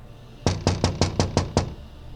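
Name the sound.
knocking on a window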